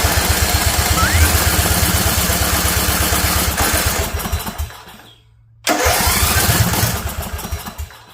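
A Briggs single-cylinder engine on a hydro dragster, fed fresh gas after storage with mouse damage, sputters up loud and close, runs roughly, cuts out for a moment, then catches and revs again.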